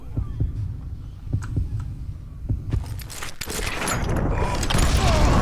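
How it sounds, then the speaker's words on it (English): Low, rhythmic heartbeat thumps pulse through a duel in the Western shooter Call of Juarez Gunslinger, steady at first and then buried under denser game noise and rumble in the last seconds. "You hear your heartbeat or your gun."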